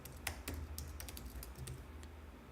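Fast, light typing on a computer keyboard at a desk, a rapid run of soft key clicks, quiet and steady, with no voices.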